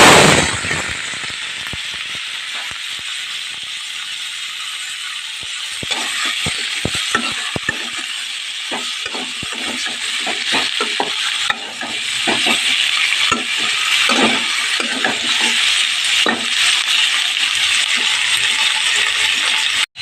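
Mixed vegetables tossed into hot oil with nigella seeds hiss and sizzle loudly, with a bright, steady frying crackle throughout and repeated sharp clinks and scrapes of a spoon stirring in the pan, no voices.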